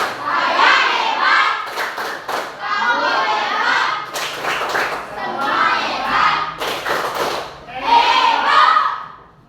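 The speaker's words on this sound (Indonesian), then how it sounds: "Tepuk hebat." Children in a classroom clap together in a group clapping game, bursts of loud hand claps and thumps with young voices mixed in, close and energetic, repeating in rhythmic sections.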